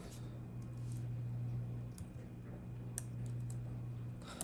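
Quick, light clicking of keys on a computer keyboard as a web address is typed, soft and close over a steady low hum, with no voices.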